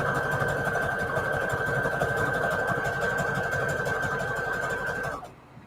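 A sewing machine runs steadily, stitching stretchy shabby chic lace trim, a close, even mechanical whir with a rapid needle patter that continues for about five seconds and then stops abruptly.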